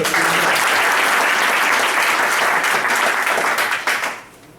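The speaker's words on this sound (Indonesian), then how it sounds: "Oke, tepuk tangan teman-teman." An audience at a motivational talk applauds, a dense, loud wave of clapping that holds steady and then tapers off at the end.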